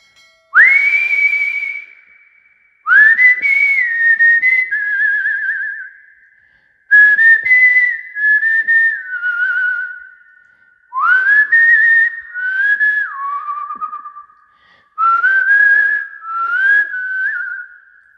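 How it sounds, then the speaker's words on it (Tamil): A person whistles a melody from a Tamil film song. Five clear, sliding whistled phrases are separated by short pauses. The whistling is close and loud, with no talking. "நான் அடிக்கடி ஃபீல் பண்ணி விசில் பண்ணுற ஒரு போர்ஷன் இருக்குது"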